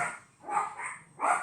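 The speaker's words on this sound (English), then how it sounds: "Pardon the dogs." Dogs barking indoors near a window, three loud close barks in quick succession with no speech.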